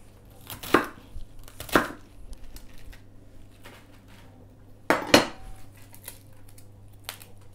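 A knife chops vegetables for kimchi on a cutting board: a few sharp, isolated chopping strikes spaced seconds apart over a quiet room background, with no talking.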